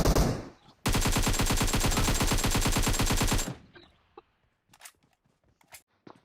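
Fully automatic rifle fire in PUBG Mobile during a drop shot, with the player going prone while shooting: one loud, steady burst of rapid rounds lasting about three seconds, followed by faint scattered footsteps and small clicks.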